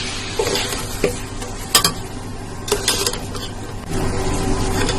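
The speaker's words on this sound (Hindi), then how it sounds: "ये देखिए मसाला में भून लिया।" Masala spices with a tangy chutney mixed in, frying in a pan for a spicy black chickpea dish: a loud, continuous close sizzle with a few scraping stirs and clinks of a spoon against the pan.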